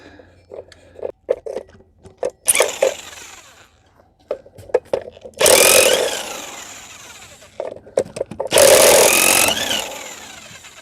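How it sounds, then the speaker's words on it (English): An electric impact wrench works rusty lug nuts on a Chevy Tracker in loud, harsh bursts of a second or so, separated by short clicks, knocks and near-silence. "a lot of people don't like these electric impacts"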